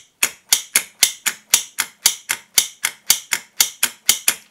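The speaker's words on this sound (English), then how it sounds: "it's going to pull the plunger in, and it's going to draw about 750 milliamps at 12 volts" A 12-volt solenoid lock snapping its plunger in and out, sixteen sharp metallic clacks in a steady rapid rhythm, close and loud with no talking.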